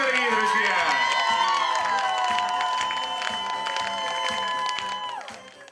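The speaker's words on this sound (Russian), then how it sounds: "Бурные аплодисменты, дорогие друзья!" An audience claps and cheers at a district beauty pageant as the first vice-miss is announced, while a musical fanfare plays over the crowd noise and fades out near the end.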